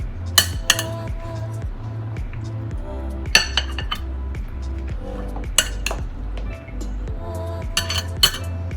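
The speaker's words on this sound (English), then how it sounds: "Make sure that you mix it all together, that it's even everywhere" A Mediterranean salad is tossed together in a bowl, giving repeated clinks and scrapes of utensils against the dish over a steady low background hum, with no one talking.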